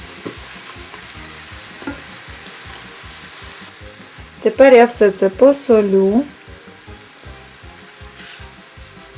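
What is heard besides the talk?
meat and beets frying in a pan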